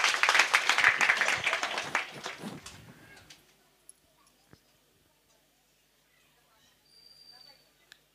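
Church congregation at a harvest festival service in Kulumala village claps loudly in a dense burst that fades out after a few seconds, leaving near silence with a few faint knocks.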